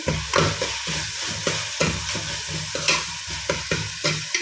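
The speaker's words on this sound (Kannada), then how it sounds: "ಆನಿಯನ್ ಚೂರು ಫ್ರೈ ಆಗೋದು ಬಂದಾಗ 1 ಕಂಡೆ ಟೊಮೆಟೊ ಕಟ್ ಮಾಡ್ತದೆ ಮುಂದೆ ಫ್ರೈ ಆಗೋದು" Onion and tomato frying in a pan for a Mangalorean dish, a constant sizzle broken by repeated rhythmic scraping stirs, close and moderately loud with no talk.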